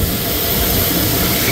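Titumir Express rolls into Hili station near the Bangladesh border, a short burst of continuous broadband rumble and hiss from the moving train, close and steady with no voices.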